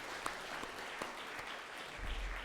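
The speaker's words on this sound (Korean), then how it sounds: "박수로 하나님께 영광 돌립니다." Congregation clapping during a New Year's Eve church service, a steady, fairly faint wash of applause with a few sharper individual claps standing out.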